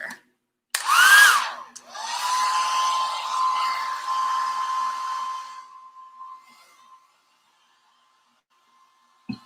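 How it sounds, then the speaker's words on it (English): A hair dryer starts up with a brief whine and then blows steadily close by for a few seconds, drying fresh paint on a side table before it winds down and stops, with no talk. "I'm probably going to have to hit this really quick with a dryer."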